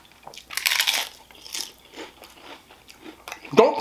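Crunchy Takis taco being bitten and chewed, a few close, crackling crunches spread through the clip with faint breathy sounds between them, louder crunching at the end.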